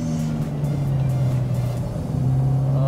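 The engine of a Toyota 86 holds a steady, loud, droning rev during a drift, with a strong low hum that barely changes over a few seconds; no talk is heard.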